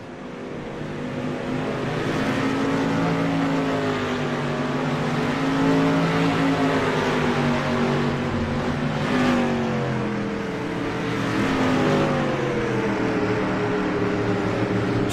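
Race car engines in a racing video game at a Lakeland dirt track, a steady droning roar with wavering pitch as revs rise and fall, sustained loudly throughout with no pauses.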